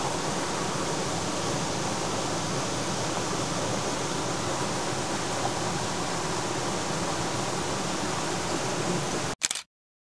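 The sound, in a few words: Kama waterfall in Okutama gorge, high water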